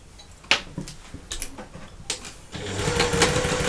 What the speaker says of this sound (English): I'm going to stitch along that bottom edge there, okay, a quarter of an inch seam allowance